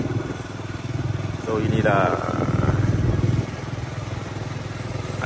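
A motorcycle without working lights runs close by with a steady, rhythmic chugging engine note that swells briefly in the middle, while someone talks over it.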